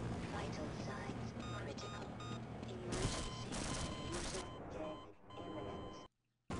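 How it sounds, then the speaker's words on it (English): Gunfire aimed at the player in the Half-Life shooter, with a busy stream of shots and bangs layered in loud game noise and voices. Everything cuts out abruptly near the end. "What the hell is shooting at me?"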